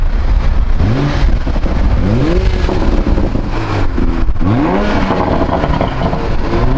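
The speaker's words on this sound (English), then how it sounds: "It actually doesn't sound bad when you give it a rev" A Toyota Supra engine revs up again and again, each rev a rising, growling sweep with a few bursts rolling over one another, loud and close, with no talking.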